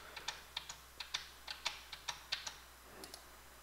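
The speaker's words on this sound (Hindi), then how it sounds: "टैब प्रेस करूँगा" Quiet, sharp clicks of computer keyboard keys, about a dozen evenly spaced taps with a lighter one near the end, alone with no talking, during work on a railing in Autodesk Revit.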